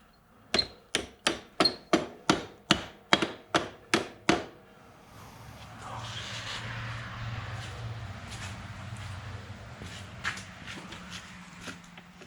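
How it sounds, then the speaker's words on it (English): A big hammer strikes a Suzuki DR650 motorcycle's chain adjuster eleven times in an even, sharp metallic rhythm, followed by quieter handling clatter and shuffling. "And there we go, a big hammer."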